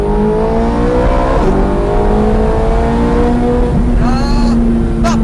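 A Ferrari F430 Scuderia's engine roars loudly from inside the cabin on a race track, its pitch climbing and dropping through gear shifts and sharp blips of revs, with a voice faintly under the engine noise.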